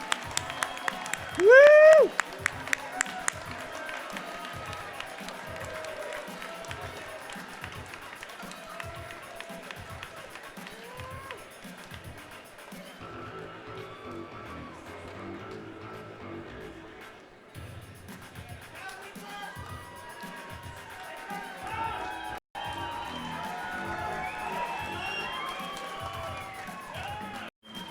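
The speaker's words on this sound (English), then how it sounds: "Round of applause." A crowd at the Oregon Beer Awards claps and cheers, with a voice whooping and rhythmic clapping early on, then a sustained wash of applause and crowd noise with voices mixed in.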